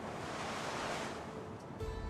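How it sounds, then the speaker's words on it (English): Ocean waves in the Roman-era strategy game Anno 117: Pax Romana, a steady broad rushing wash of surf with a windy hiss, continuous and fairly loud with no voices. "Is there a way to turn the ocean sounds down, Vent?"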